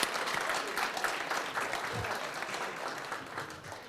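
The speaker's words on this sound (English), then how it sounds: "Let's give ourselves and give you a round of applause." A room of residents at a Black History Month celebration gives a round of applause, dense continuous clapping filling the hall at fairly even strength, with faint voices mixed in.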